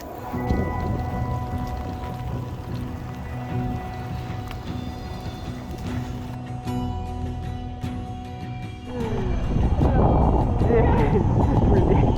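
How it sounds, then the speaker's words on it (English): Heavy, steady rain falls during a cycle tour along Ireland's Wild Atlantic Way, giving a constant broadband hiss with scattered drops and splashes. It grows louder and closer near the end, and a voice can be heard talking at times. "It's meant to rain torrentially all day"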